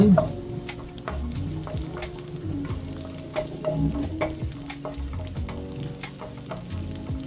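Onion sautés in hot oil in a pan for Filipino pork humba, with a close crackling sizzle and repeated scraping, clinking spatula strokes throughout.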